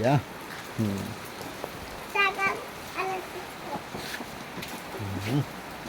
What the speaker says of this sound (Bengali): এই রে বৃষ্টি রে, কত বৃষ্টি দেখছো?